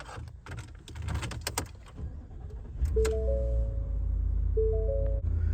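Key inserted and ignition started in a 2024 Ford F-150 XLT pickup: a few soft clicks and rustles inside the cab, then steady chimes and a low, continuous engine hum as the truck comes on.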